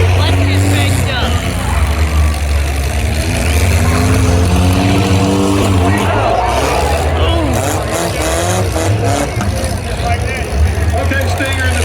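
Demolition derby cars revving and racing around an arena, engines roaring loudly and continuously with grinding and crashing noises, crowd and announcer voices mixed in throughout.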